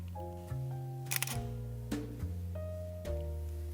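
A single-lens reflex camera fires its shutter several times in sharp clicks with whirring mechanical sounds between them, close and clear, with no voices.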